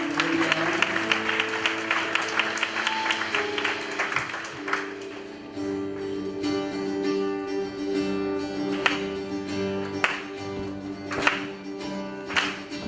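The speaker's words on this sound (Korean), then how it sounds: "우리 하나님께 영광의 박수를 올려드리겠습니다" A church congregation applauds during a university-group worship service, sustained clapping that swells and then settles under sustained organ-like keyboard tones and musical accompaniment.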